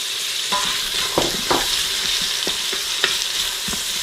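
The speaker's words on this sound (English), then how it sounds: "What we want to put our onion and jalapeno in here and get them sauteed up." Chopped onion and jalapeno sizzle steadily in hot oil inside an Instant Pot, a constant loud frying hiss broken by occasional scraping stir sounds, with no talking.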